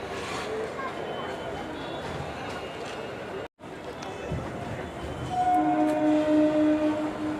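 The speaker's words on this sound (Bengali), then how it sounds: "এই ট্রেনটা এখন শিয়ালদার দিকে যাচ্ছে।" A train at Barasat Junction station rumbling as it heads toward Sealdah, a steady mid-distance roll of wheels with a horn sounding in the latter part, while people talk nearby.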